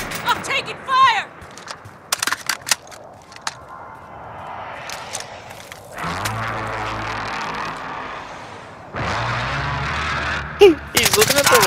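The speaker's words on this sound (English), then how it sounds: "I'm taking fire!" Gunfire in Call of Duty: Modern Warfare, with sharp bursts scattered through the first few seconds, then steadier dense firing and rumbling, closing with loud rapid shots; voices speak in the middle.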